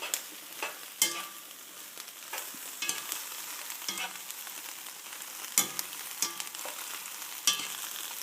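Habanero and jalapeno peppers are stirred as they char in a hot pan, with a quiet sizzle under a series of distinct scraping, clacking stir strokes at an uneven pace, and no one talking.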